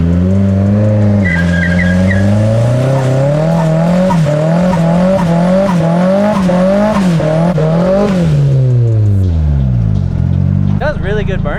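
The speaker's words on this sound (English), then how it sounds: "Does really good burnouts." A Nissan S14 car doing a burnout, its engine revving loud and wavering in pitch over a continuous tire squeal, then the revs dropping away near the end.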